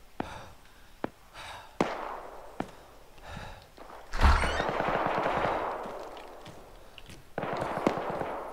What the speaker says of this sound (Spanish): Tiros están cerca.